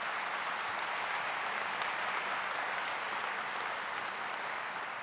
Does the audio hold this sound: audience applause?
yes